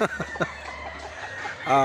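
A chicken gives a few quick, short clucks close by, then a brief louder squawk near the end. The clucks come in an uneven rhythm.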